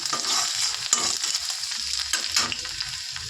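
Chopped garlic and vegetables sizzle in hot oil in a wok, a steady bright hiss broken by a few louder spatters as the food is stirred, close and with no talking.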